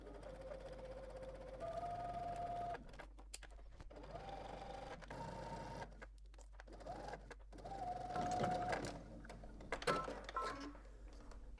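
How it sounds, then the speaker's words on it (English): A sewing machine hums in short bursts of stitching, starting and stopping several times, with quiet handling noises between runs. "we can go ahead to the sewing machine and stitch this"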